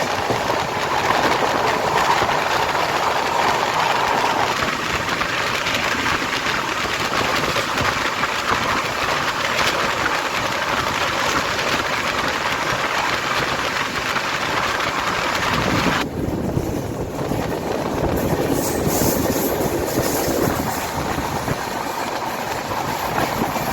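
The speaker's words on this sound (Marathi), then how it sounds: "फुल 130च्या स्पीडने आपली ट्रेन पळते" Indian passenger train running at full speed, around 130 km/h, on the Mathura to Nagpur route, heard from inside as a loud, steady roar of wheels and rail with wind noise and faint clatter.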